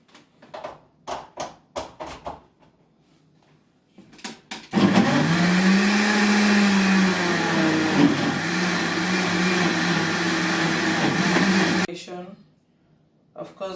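A blender whirs loudly and steadily for about seven seconds as it purées a ginger drink with citron, lime, cayenne pepper and honey. A person talks before and after the blending, with short pauses between phrases.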